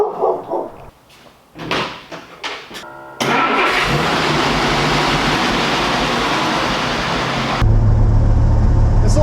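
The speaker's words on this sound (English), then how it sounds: "it's got an exhaust leak or something because it's a little bit loud" Sputtering cranks and a dog barking give way to a small truck engine with an exhaust leak catching and running with a loud, rough rumble that grows heavier near the end.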